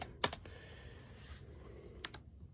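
A few sharp keystroke clicks on a Logitech MX Mech Mini mechanical keyboard, a quick burst near the start and another pair later, with quiet room tone between.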